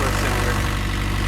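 A mini excavator's diesel engine runs steadily at idle after its fuel lines have been bled, a loud, continuous low rumble with no breaks.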